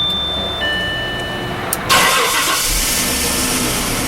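A 1996 Jaguar's engine cranks briefly and catches, then settles into a steady, close idle after a faint electronic chime and a short click.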